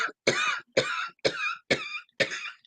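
Six harsh coughs in quick succession, each a short bark separated by brief silences, close and fairly loud.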